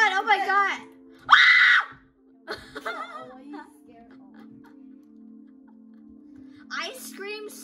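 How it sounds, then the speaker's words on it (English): A person screams loudly while playing a difficult obstacle-course game, several sharp yells and shrieks in short bursts with quieter gaps and a faint steady tone underneath. "I scream so loud."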